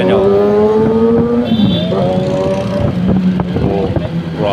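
A big bike motorcycle accelerates hard on a road, its loud engine note climbing and shifting pitch through several gears, heard close and steady for over four seconds.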